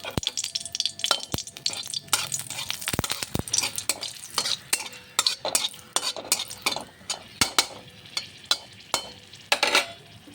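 Panch phoron spices and oil sizzle in a pan while a utensil stirs, with a constant frying hiss broken by repeated sharp scrapes and clinks of metal against the pan, close and without talk.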